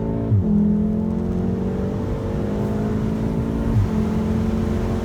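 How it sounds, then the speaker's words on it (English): A VW Golf R Mk7.5 with 4Motion four-wheel drive pulls away, its engine droning loud and close. The revs rise and fall through two gear changes. "Dan, can we just drive a bit?"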